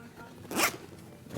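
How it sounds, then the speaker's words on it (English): Front zipper on a backpack bag pulled in one quick, close rasping stroke, loud and alone against a quiet room. "Also a zipper in the front here too."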